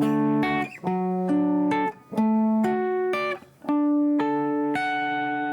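A clean guitar plays a sequence of open triad chords in an ambient worship style, each picked in a quick arpeggio and left to ring, one after another.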